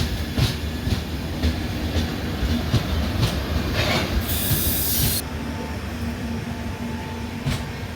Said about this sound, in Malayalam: ഐലൻഡ് എക്സ്പ്രസ് അങ്ങനെ കായംകുളത്ത് നിന്ന് എടുത്തിരിക്കുകയാണ്